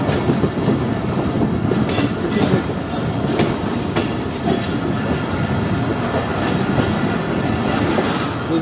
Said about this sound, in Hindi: ये हमारी ट्रेन पहुंच रही है शीलाबाग रेलवे स्टेशन पर।